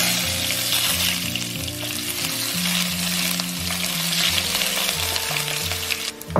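Scallion whites frying in pork belly fat rendered in a hot wok crackle and sizzle loudly and steadily, with a low hum running underneath.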